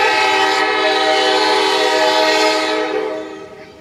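Former CSXT locomotive 7575 leads a short train of coal gondolas past, sounding a loud, sustained horn blast close by that fades away over the last second.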